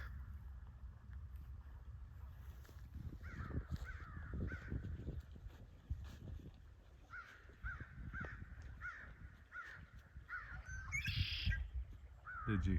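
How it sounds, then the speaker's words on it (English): Outdoors at Summit Lake State Park, a red-winged blackbird sings from a tree, its harsh repeated calls moderately distant over steady wind and low rumble, with a louder burst near the end. "Red-winged blackbird."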